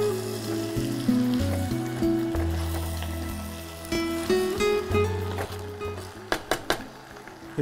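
Onions or vegetables sauté with salt and turmeric in a hot pan, a soft steady sizzle with scattered crackles, heard faintly under tonal background music.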